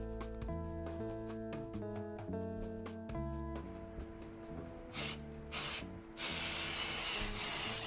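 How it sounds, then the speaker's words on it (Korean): Mold release spray hissing onto a silicone mold in three short bursts followed by a longer sustained spray, over a steady background of tonal music. "분리 스프레이도 써줬습니다."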